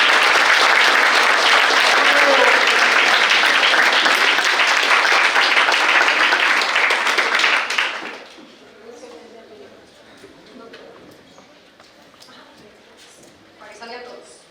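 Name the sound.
audience applause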